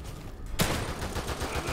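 Gunfire in the horror video game The Evil Within 2, a sudden loud burst breaking in partway through and then ringing on as a dense, rattling spread of shots.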